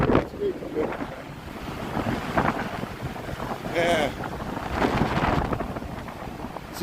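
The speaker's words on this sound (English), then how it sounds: "Now, I know it's windy." Strong gusts of wind buffet and roar at the Chicago lakefront in waves of rushing noise with water sounds, and a person briefly speaks.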